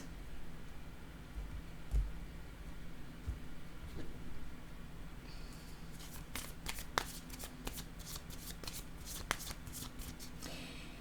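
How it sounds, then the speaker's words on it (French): Tarot cards are handled and laid down: quiet shuffling and sliding at first, then a flurry of quick crisp card flicks and snaps close up, with no talking. "Je vais déposer une autre carte."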